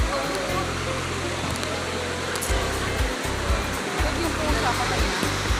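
Water rushes steadily and loudly at Baliti lake, a hidden river in Tanay, as a constant broadband roar with a voice talking over it.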